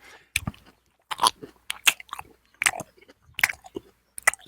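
A person chews food close to the microphone in ASMR style, with sharp bites and wet crunches in irregular bursts separated by short silences.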